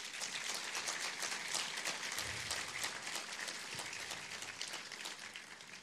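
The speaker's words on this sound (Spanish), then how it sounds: "Denle un fuerte aplauso al Señor." A church congregation applauding during a sermon, giving a steady, dense wash of clapping from many hands that fades slightly toward the end, with no talking.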